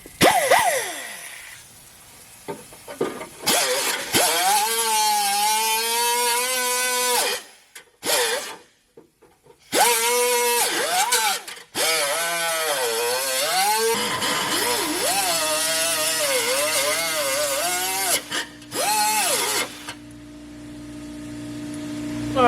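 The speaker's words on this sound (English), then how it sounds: "then cut it off with this wheel" A cutting wheel shrieks through metal near a wiring harness during a 5.3 LS and TH400 transmission install, loud grinding bursts that rise and fall in pitch, broken by pauses, then a lower steady hum.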